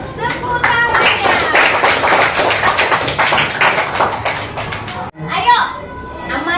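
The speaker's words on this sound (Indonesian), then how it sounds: "Tepuk tangannya." Children in an elementary classroom clap their hands together in a dense, lively burst amid excited chatter, filling the room at close range before a brief pause and a quieter resumption.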